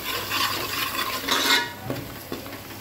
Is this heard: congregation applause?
no